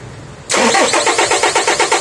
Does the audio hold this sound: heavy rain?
no